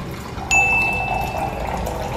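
A steady stream of green tea pours into a glass for about two seconds, starting right after a short, bright ding.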